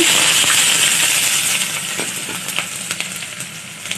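Onion fries in hot oil in a pan, a bright, close sizzle that starts dense and loud, then thins into lighter crackling with scattered sharp pops and spits; no voices.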